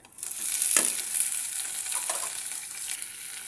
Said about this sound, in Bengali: এগুলো হালকা একটু ভেজে নেব